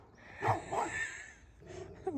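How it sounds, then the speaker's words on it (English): A dog out on a street gives a couple of short, moderately distant barks and yips, followed by a fainter sound. "You're barking at me."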